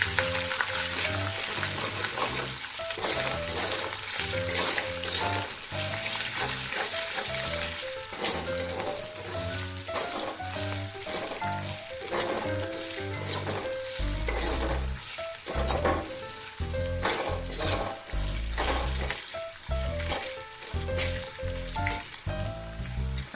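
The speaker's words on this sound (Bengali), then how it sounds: "এবার এই তেলের মধ্যে আদাটাকে দিয়ে দেবো।" Ginger sizzles in hot oil in a pan for chicken chow mein, after the garlic. A spoon stirs and scrapes it repeatedly over a steady crackling fry, with no talking.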